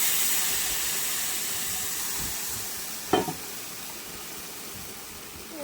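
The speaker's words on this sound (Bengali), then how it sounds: "এবার এর মধ্যে আমি তেঁতুল গোলা জল দিয়ে দিচ্ছি।" Tamarind water going into a pan of tilapia fish curry, a steady close sizzle and hiss of simmering liquid with a single brief splash or clink midway.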